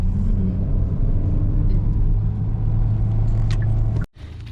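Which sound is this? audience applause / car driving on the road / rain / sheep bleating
car driving on the road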